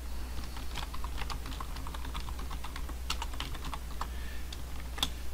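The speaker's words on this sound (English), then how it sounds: "So I can type in" Typing on a computer keyboard, a quick irregular run of light key clicks close by over a low steady hum, with no voices.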